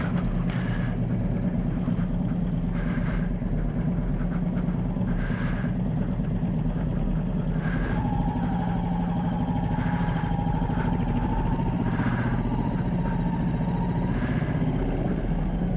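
Royal Enfield Meteor 350 motorcycle engine ticking over steadily during slow, tight manoeuvring, a constant close low rumble with faint periodic clatter and no talk.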